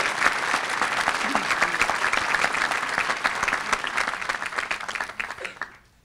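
A 2015 graduation ceremony crowd gives its speaker a sustained, dense round of applause, loud and even throughout before tapering off sharply at the end.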